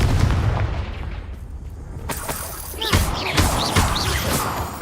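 Confringo fire-blast spell from Hogwarts Legacy bursting in a sequence of sharp, loud blasts, several quick impacts with bright crackling tails over a dense rumbling game background.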